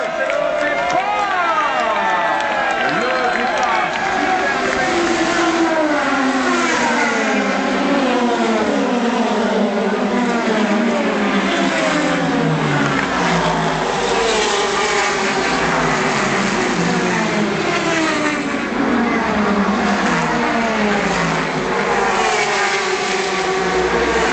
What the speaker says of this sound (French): Jim France pour le drapeau starter officiel des 24 heures